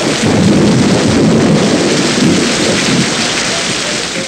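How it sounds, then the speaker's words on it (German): Heavy rain and rumbling thunder from a sound effect in the German TV comedy series Klimbim fill the clip as a dense, loud, steady downpour with low thunder rolling underneath, no voices. "es regnet,"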